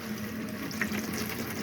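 Hot water running from the tap into a vanity sink in a Swift Corniche caravan, a short steady splashing hiss at close range with no voices.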